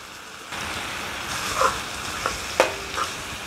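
Onion and garlic sizzle and fry in a pan for Filipino chicken cooked in cola, a steady bed of frying hiss with a few sharp clinks and stirring scrapes.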